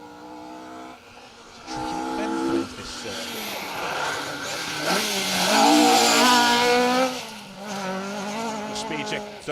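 A historic two-wheel-drive rally car on a stage rally passes close by, its engine note rising and falling as it accelerates through gears, with some tyre scrabble on loose ground and a commentator talking over it.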